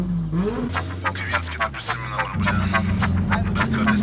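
A Volvo car engine revs up close and loud, then holds at high revs with a steady drone as the car pulls away, the pitch rising and leveling in stages with sharp transient clatter over it; no talking.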